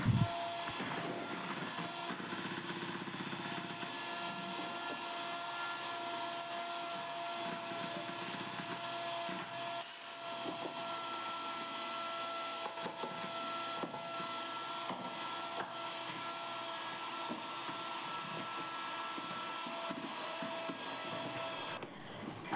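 An electric hand mixer beats sugar into creamy cake batter for a chocolate truffle cake, a steady continuous whir running unbroken and fairly loud throughout with no talking.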